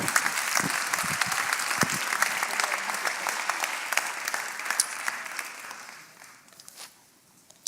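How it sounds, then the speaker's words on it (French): A crowd applauds with dense, steady clapping that fades gradually toward the end, a few scattered claps lingering. "Let's give Jesus a clap offering."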